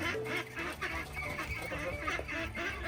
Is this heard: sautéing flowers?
no